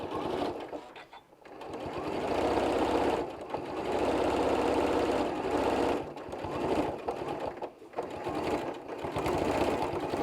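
A sewing machine stitching the side of a fabric eye mask pillow in white thread, a steady loud mechanical whirring hum with brief pauses and restarts, close up and without talking.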